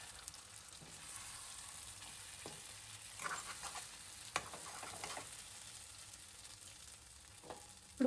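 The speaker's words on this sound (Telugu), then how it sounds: "ఇప్పుడు దీన్నంతా కూడా ఒక 3 మినిట్స్ వరకు మనము మసాలా కూడా మంచి ఫ్రై అయ్యేంత వరకు" Masala frying in a pan for capsicum masala curry: a soft, steady sizzle runs throughout, with occasional stirring scrapes and a louder knock near the end.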